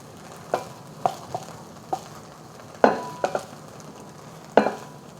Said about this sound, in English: Trying to scoop into the bowl.